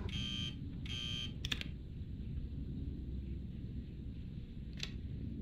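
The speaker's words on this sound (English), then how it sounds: "Grab this buzzer." Buzzer in a video game sounding in two short repeated buzzes, then a couple of sharp clicks and a later brief tick, over a low steady background hum.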